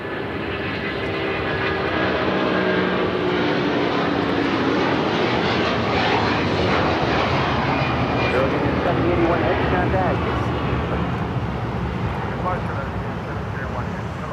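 A Southwest airliner lands on runway 25 left at LAX, its steady, broad engine roar lasting throughout, loud and continuous with no break. Radio voices talk over the noise.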